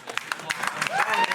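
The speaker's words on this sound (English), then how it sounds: "Clap it up." Brief scattered clapping from an audience at a rap battle judging, with a voice talking over it.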